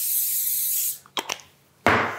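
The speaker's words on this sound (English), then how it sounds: "Just wanna spray it real fast." A steady hiss from an aerosol oil spray onto a baking tray for about a second, followed by a few light clicks and taps, then a second short spray burst.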